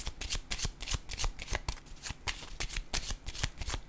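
Tarot cards are shuffled by hand in a quick, irregular run of crisp riffling flutters, close and fairly quiet, with no speech.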